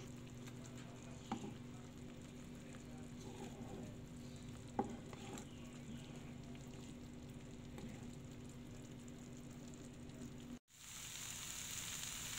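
Rawon spice paste with torn lime leaves frying in a pan, a steady, quiet sizzle running unbroken with a couple of faint clicks of stirring, then cutting out briefly near the end before resuming.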